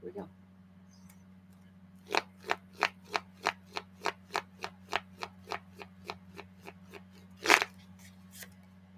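A deck of tarot cards being shuffled by hand: a run of about a dozen crisp, evenly spaced riffling flicks that slow and fade, ending with one louder snap, over a low steady hum.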